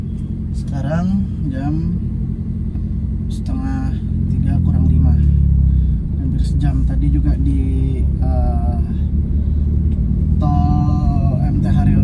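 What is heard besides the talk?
car idling in traffic jam on Jagorawi toll road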